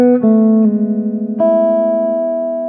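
A clean guitar picks a short pattern of separate notes, each ringing clearly and close, the last one left to sustain and slowly fade.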